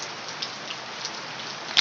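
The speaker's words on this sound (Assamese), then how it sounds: "ডাঙৰকৈ বৰষুণ দিলে।" Heavy rain pours down steadily at a zoo, a dense, even hiss with scattered louder droplet spatters close by, and no voices.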